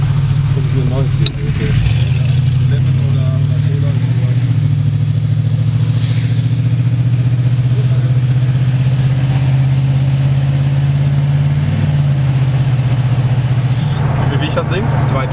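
A 1989 Chevrolet Caprice with an open cat exhaust idles with a steady, deep burbling rumble that holds evenly throughout, while people talk over it.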